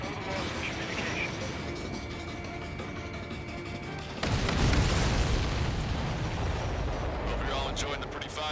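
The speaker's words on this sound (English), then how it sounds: "Everybody, keep a safe distance to avoid getting caught in the explosion." A large missile explosion in the flight combat game Ace Combat 7 hits with a sudden loud burst and then rolls on as a sustained, rumbling blast over the steady drone of aircraft.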